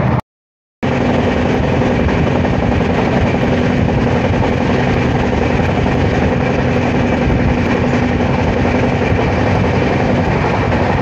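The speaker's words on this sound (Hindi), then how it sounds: "अभी क्रॉस होने वाली है 12424 डिब्रूगढ़ राजधानी भाया कानपुर वाली" The Dibrugarh Rajdhani Express, train 12424, rolls past at close range with a steady, loud roar of wheels and carriages and a faint rhythmic clatter. A sustained tone hums throughout, and the passage continues unbroken after a brief silent start.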